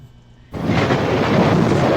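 A loud thunderclap bursts in suddenly after a quiet start, then rolls on as a heavy, steady rumble for about a second and a half before it cuts off.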